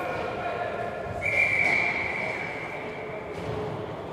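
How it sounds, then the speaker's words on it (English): A referee's whistle gives one sustained blast at a high school varsity semifinal game, heard amid crowd noise and talk in a gym. "Referee's blowing his whistle"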